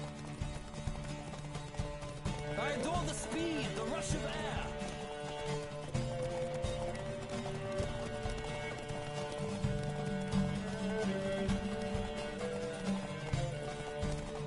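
Horse hooves gallop at speed in The Witcher video game, a steady clip-clop under game music with a whinny early on and a voice speaking over it.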